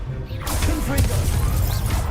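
A Confringo blasting spell is cast in Hogwarts Legacy: a quiet lead-in gives way to a sudden loud crashing whoosh and blast that stays full and roaring to the end.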